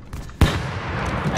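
Grenade blast in a first-person shooter video game, one sudden loud explosion that cuts in sharply and leaves a noisy rumbling tail over the last second.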